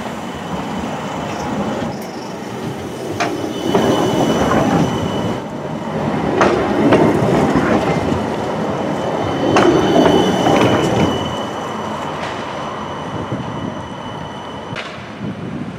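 Birmingham tram 19 arrives at a stop near New Street, a loud, close rumble of wheels on rails with rising and falling squeals and clicks over the crossover, with no voices.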